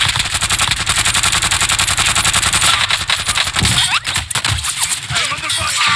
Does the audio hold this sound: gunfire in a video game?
yes